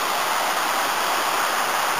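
A river flowing steadily along a countryside walking path gives a close, continuous broadband rush of water with no breaks and no voices.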